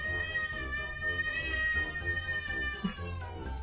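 A cat meows in a long, drawn-out call that wavers slightly in pitch. It sounds close and fairly steady, with no one talking over it.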